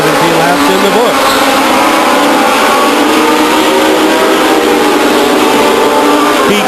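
Race cars roar around the Stockton 99 Speedway oval during a 1999 race, a loud, continuous engine drone that swells and fades as they pass, with an announcer's commentary running underneath.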